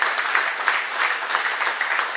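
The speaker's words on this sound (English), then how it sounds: "Let's give a nice round of applause." Audience applause at a health system and sports partnership event, welcoming an esports gaming team: brisk, even clapping from a sizable crowd, continuous and moderately loud with no speech over it.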